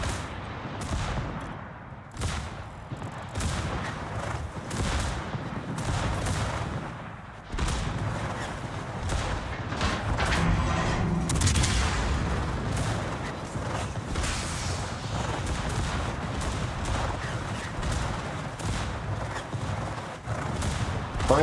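Heavy naval guns boom from warships in the video game World of Warships, a series of deep blasts and rumbling salvos with mechanical clanks and creaks between them, loud and continuous throughout.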